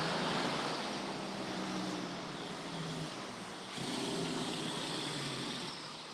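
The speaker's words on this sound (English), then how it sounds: "Very busy road here." Traffic on a busy road passes by steadily, a broad wash of tire and engine noise from vehicles at a moderate distance, with one car swelling past midway.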